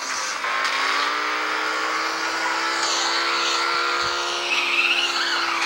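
A car drives in the Asphalt 8 racing video game, its engine holding a steady, droning whine that climbs slightly in pitch toward the end, loud and continuous without any voices.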